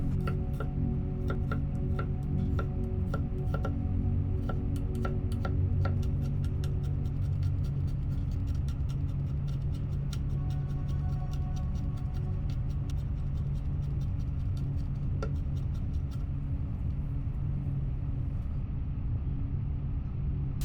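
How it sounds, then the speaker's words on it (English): Knife mincing crushed garlic cloves on a board, a rapid train of light clicking chops in the first half that thins to sparse taps over a low steady background hum, no talking. "Next, we have 2 medium garlic cloves, crushed and minced finely"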